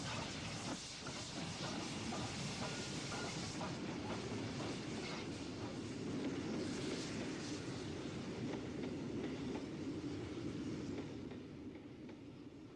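A steam locomotive, the City of Nottingham, on a UK main line works steadily with continuous hissing steam and rhythmic clatter from the rails. The sound is faint and distant and holds a constant level.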